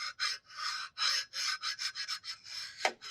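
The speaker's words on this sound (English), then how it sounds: "run it down the edges of our vane slots to make sure that there is no burrs that will damage the new vanes" Repeated short rasping strokes of a file or deburring tool run along the edges of metal pump vane slots during an HXL series pump rebuild, close and fairly quiet, with brief pauses between strokes.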